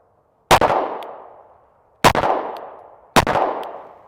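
Three sharp gunshots at a shooting range, each a loud, close crack with a ringing decay, spaced about one and a half seconds apart, then a slightly shorter gap before the third.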